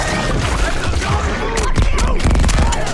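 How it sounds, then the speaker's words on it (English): A team opening fire with guns at a huge armored alien creature in an Arctic setting, a loud, dense and sustained barrage with no clear gaps. "Our team opened fire immediately"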